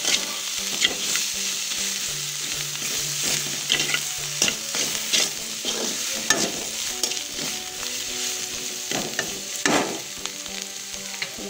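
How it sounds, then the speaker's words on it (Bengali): Coriander powder, salt and ginger-garlic paste sizzle loudly in a pan, steady frying hiss with frequent scraping stirs of a spatula throughout, close and continuous. "ধনিয়া গুঁড়া লবণ আদা রসুন বাটা মিক্স করে নিচ্ছি"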